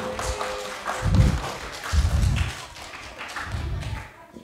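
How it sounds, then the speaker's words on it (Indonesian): Applause from a seminar audience at a primary school research presentation, heard as several soft bursts of tapping and clapping at moderate distance with faint background murmur. "Mari kita kasih tepuk tangan dulu"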